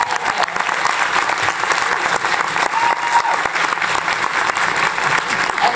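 Sustained, dense applause from a school audience for fourth and fifth grade performers after a Peter Pan play, loud and steady throughout with no voices above it.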